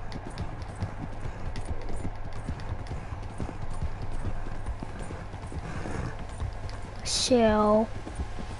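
Rhythmic clip-clop of horse hooves in Red Dead Redemption 2, a steady trot running under a voice briefly talking, followed by a loud horse whinny near the end.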